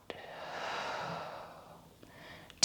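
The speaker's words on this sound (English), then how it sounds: "Breathe in and out" A single deep, drawn-out exhale during a yoga session, a soft breathy rush that swells and fades over about two seconds, close and alone, with faint taps before and after.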